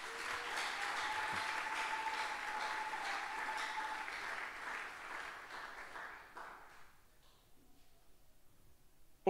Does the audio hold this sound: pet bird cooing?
no